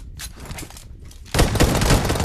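Gunfire in a video game, a few scattered shots followed by a sudden burst of rapid sustained firing that stays loud and dense to the end.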